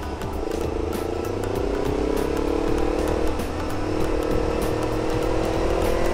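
A motorcycle or car speeds up to overtake on a road, its engine whine rising steadily in pitch over a loud, constant rush of wind and traffic noise, close and continuous throughout.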